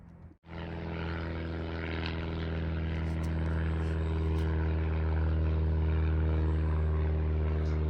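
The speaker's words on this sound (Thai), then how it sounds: "เสียงเครื่องบินจ้ะพี่น้อง" A fixed-wing propeller airplane drones overhead above a rural Thai village, a loud steady engine hum with strong low harmonics that holds throughout after a brief dip at the start.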